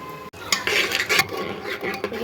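A spoon stirs and scrapes spice paste frying in a pan for a jackfruit and chana dal curry, with repeated metallic clinks and scraping over a soft sizzle.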